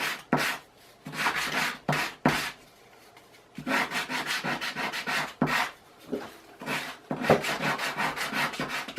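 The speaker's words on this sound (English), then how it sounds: "sometimes it can be just as easy rubbing it against the piece of sandpaper on a flat surface" A gun assembly part is rubbed back and forth across sandpaper laid on a flat surface, making loud close rasping strokes in bursts with short pauses between them.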